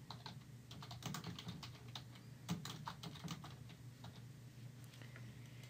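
Keys clacking on a computer keyboard in short, uneven bursts, with light, close clicks over a steady low hum.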